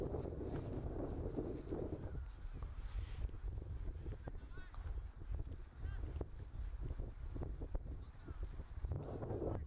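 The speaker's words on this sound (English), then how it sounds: "You can hear the wind gusting through the field." Steady wind gusting across a soccer field rushes and buffets throughout, with distant voices and crowd sounds mixed underneath.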